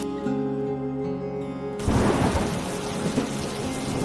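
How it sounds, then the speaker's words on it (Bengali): Soft sustained tones give way abruptly to a loud, dense roar of heavy rain pouring down, with a low rumble underneath. "পরক্ষণে আবার ঝুম বৃষ্টি শুরু হয়ে যায়"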